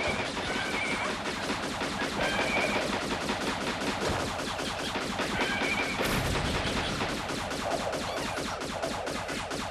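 Rapid video game gunfire rattles on without a break, dense machine-gun-like bursts filling the whole stretch at a steady loud level with no clear talking.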